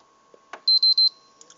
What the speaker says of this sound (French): On entend bien 3 bips.